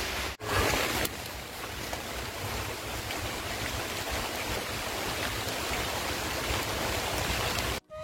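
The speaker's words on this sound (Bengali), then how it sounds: "খাওয়া দাওয়া করতে বসেছি, এমন সময় বৃষ্টি চলে আসলো" Rain falls steadily outdoors in a dense, even hiss that continues without pause across the whole stretch, with no voices.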